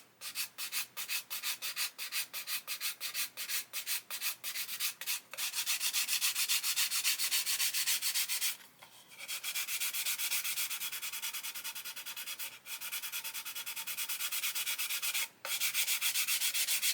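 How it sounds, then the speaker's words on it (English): A coarse sanding stick rubbing against the edge of a 1/35 plastic model submarine kit, close and steady: rapid rhythmic scratchy strokes at first, then long continuous rasping passes broken by a couple of brief pauses. "what I'm tempted to do is kind of sand away some of this edge and sort of go 50-50"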